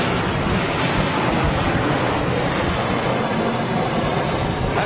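A TUI airliner in family life livery at Manchester Airport, a steady broadband engine roar heard at moderate distance, continuous and even without a break.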